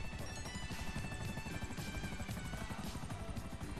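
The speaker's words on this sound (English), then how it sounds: "Jake's in the chopper too" A helicopter flies in Grand Theft Auto V Online, its rotor making a steady, fast thumping over a loud broadband whoosh, with no talk.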